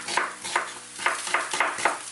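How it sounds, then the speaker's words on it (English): Sliced onion frying in a pan while being stirred, heard as a soft sizzle broken by rhythmic scraping strokes about every half second, close and fairly quiet. "The reason I fry the onion is just to kill the rawness of the onion."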